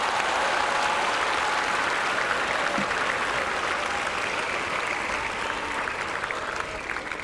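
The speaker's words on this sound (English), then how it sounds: "A round of applause to all our leaders." A large crowd at a university welcome ceremony for new students applauds its student leaders with continuous, full clapping that stays even throughout and fades only slightly near the end.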